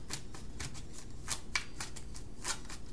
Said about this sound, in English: Let's get some cards here from this deck.